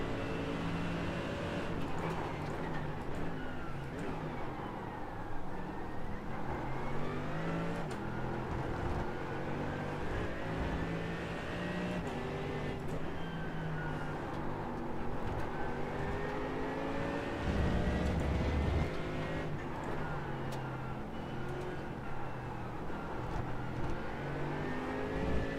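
Race cars, including a BMW, accelerate around the Fuji circuit in iRacing, engines rising and falling in pitch through repeated revving sweeps, a continuous layered drone of several cars.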